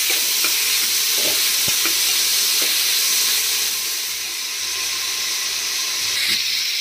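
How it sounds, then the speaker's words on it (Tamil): Cut tomatoes are sautéed with onions in a pan for a mutton kulambu, giving a constant bright sizzle and hiss broken by intermittent scraping and tapping strokes of a stirring spoon, close and moderately loud, with no voices. "நல்லா வதக்கிக்கலாம். தக்காளி போட்டுக்கிறேன்."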